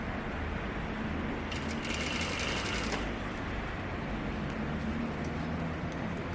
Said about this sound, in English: Sewing all the way to the other side.